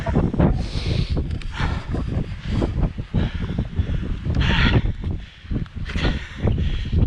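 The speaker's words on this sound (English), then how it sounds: "It's windy though." Steady gusts of wind buffet the microphone outdoors on a hill in Northumberland, a continuous low rumble with occasional rustling.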